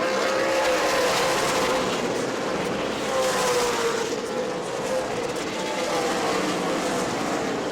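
Race cars at New Smyrna roar past on the track, a loud sustained engine drone with shifting pitch as several cars run side by side, close and continuous, with a commentator's voice faintly under it.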